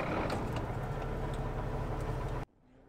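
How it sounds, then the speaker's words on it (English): A semi-truck tractor engine runs at a steady low idle with faint ticking, then cuts off abruptly near the end, leaving near silence. "Once inside, start the engine."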